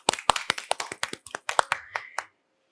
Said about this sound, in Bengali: দুজনেই জোরে হাততালি একটা।